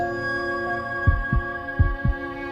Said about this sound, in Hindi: धड़कन चल रही है